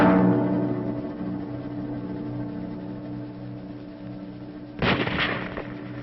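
Gunfire in jungle combat: a heavy distant report opens, followed by a low rumble and a second sharp burst of fire near the end.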